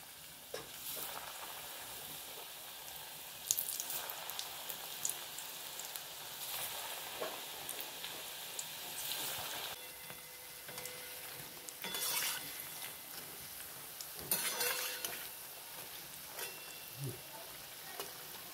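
Onion bhaji (pakoda) batter frying in hot oil: a steady close sizzle and crackle that swells now and then as pieces are stirred, with occasional light clinks of a utensil against the pan.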